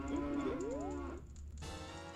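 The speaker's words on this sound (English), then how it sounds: "What you got for me, cow?" A cow in a Zelda video game randomizer (Majora's Mask and Twilight Princess) lets out a loud moo with wavering pitch that ends abruptly, followed by a steady electronic game tone.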